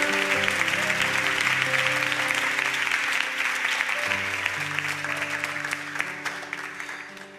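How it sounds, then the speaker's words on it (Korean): Studio audience applauds steadily throughout in a radio broadcast studio, with sustained soft music tones running underneath the clapping. "하나님께 큰 박수로 영광 올려드리겠습니다"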